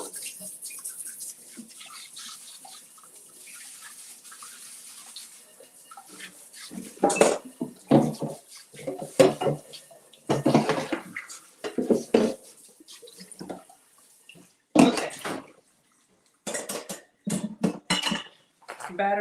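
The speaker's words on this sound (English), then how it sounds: "Let me just rinse really quick." Chocolate banana cake batter is rinsed off baking dishes under a running tap. A soft water stream is followed by loud, close clattering of pans and utensils in irregular bursts, with brief pauses between them.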